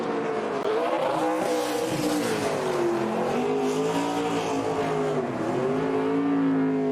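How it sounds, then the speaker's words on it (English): NASCAR Truck Series truck doing a victory burnout at Darlington, a sustained loud engine roar with rising and falling revs and squealing tires, heard alone for several seconds. "He's got these burnouts down to a science."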